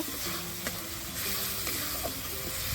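Chopped tomatoes and spices sizzle and fry in a pan for a Bengali-style bhetki fish-bone chochori, a continuous crackling hiss with small pops and light stirring scrapes close by.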